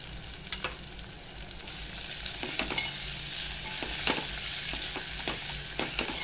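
Chopped onion frying in a pan for mixed dal khichdi, a soft continuous sizzle broken by occasional spoon clicks and stirs, fairly quiet and without talk.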